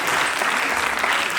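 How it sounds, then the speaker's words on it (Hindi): A short burst of dense, loud audience applause at a play, close and continuous clapping from many hands. "एक बार जोरदार ताली।"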